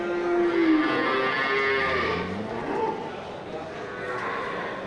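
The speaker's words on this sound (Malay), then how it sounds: "masih banyak sapi-sapi yang berdatangan walaupun sudah jam siang." Cattle at a crowded livestock market on a hot day, with several long, loud moos overlapping against busy background chatter and crowd noise.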